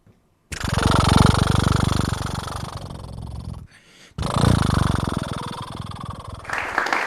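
A voice imitates a boat engine with a loud, sustained low putter and chug, breaking off briefly, then resuming at full strength.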